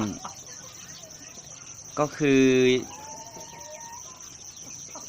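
A chicken in a small coop of older egg-laying hens gives one loud, drawn-out squawk lasting under a second, set against a steady high chirr of insects. A voice speaks briefly near the start.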